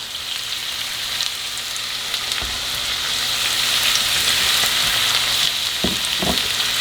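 Green onion whites and garlic frying in a pan for a keto egg roll in a bowl, a steady bright sizzle with a few soft scrapes and thumps of stirring near the end.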